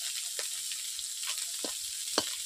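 Small fresh fish sizzle as they fry in oil in a pan for a village-style curry, with steady hiss and a few louder spits and crackles, fairly faint and close.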